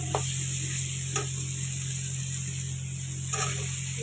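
Cauliflower dropped into hot oil with fried spices, coriander powder and kasuri methi, sizzling in a steady hiss with a few sharp spatters and clicks standing out.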